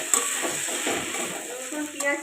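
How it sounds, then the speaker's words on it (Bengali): Crushed garlic sautés with onions in a hot pan for a spicy mutton curry, a close, continuous sizzle with light stirring scrapes. "রসুনটাকেও একটু কষিয়ে নেব।"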